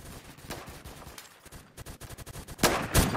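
Rapid M60 machine gun fire in the Roblox shooter Phantom Forces, a fast stream of sharp shots, mid-distance and steady, capped by a couple of louder close blasts near the end.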